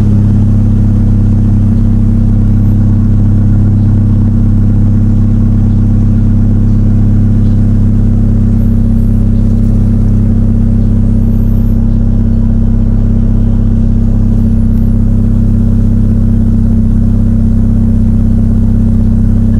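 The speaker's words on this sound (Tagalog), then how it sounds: "cold start pa lang yan mga boss. Kaya medyo mataas pa yung andar niya." Mitsubishi Lancer Evo 3 on a cold start, after sitting nearly a year: a loud, steady high idle with a deep droning hum, very close, unbroken and free of talk.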